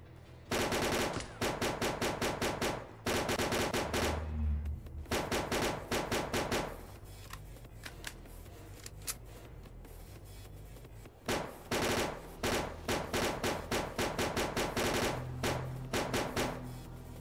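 Automatic gunfire in S.T.A.L.K.E.R.: Clear Sky, loud rapid bursts of shots separated by short pauses, with a quieter stretch of scattered sound in the middle and no talk.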